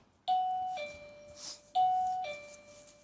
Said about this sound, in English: You have to indicate your readiness by ringing a bell.